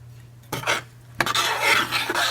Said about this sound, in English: Give this a good stir so you have all your ingredients nicely blended